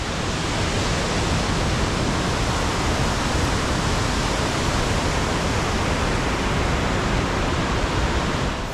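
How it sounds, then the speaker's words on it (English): A powerful 38-foot waterfall on Six Mile Creek thunders in a small gorge, a dense, steady roar of falling water that fills the whole span at close range, loud and unbroken with no voices. "Just see that powerful 38-foot waterfall behind us, plus another 20 feet at the top."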